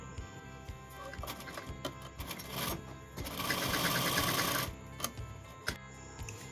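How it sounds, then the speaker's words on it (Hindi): An electric sewing machine stitches jacket plates for a reversible notched-collar jacket, with rapid rhythmic clattering that speeds into a sustained run before slowing into separate ticks, close and clear with no talk. "फिर ये फोर्थ प्लेट डालेंगे, इसको यहाँ फर्मली स्टिच करेंगे"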